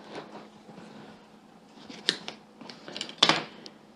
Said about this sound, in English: And then I just cut it in half.